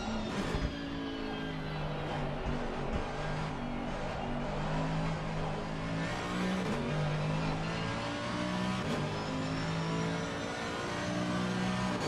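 Engine of a 93 AMG car in a racing video game, revving steadily with shifting tonal whine throughout, loud and close, alone without talk.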